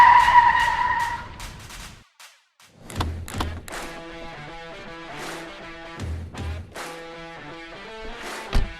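A car skids on a road with a sharp tire screech and thuds, followed by a stretch of tonal music beneath, moderately loud throughout.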